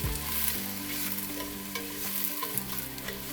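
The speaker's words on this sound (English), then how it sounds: "I'm gonna give this a little saute" Garlic and onions sauté in a pot for Greek lentil soup, with a steady close sizzle under tonal musical notes and a few scraping stirs.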